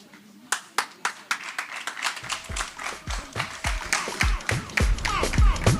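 Scattered audience clapping at a Miss Universe DRC 2025 pageant show, starting as distinct separate claps and thickening into rhythmic, louder applause with thumping beats underneath.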